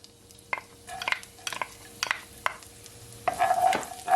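Garlic sizzling in hot oil in a pan for salt and pepper shrimp, a soft crackle under repeated spatula clinks and scrapes, with a louder burst of sizzle near the end.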